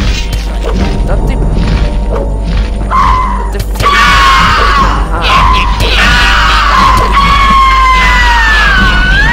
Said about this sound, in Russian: Блин, еще орут громко.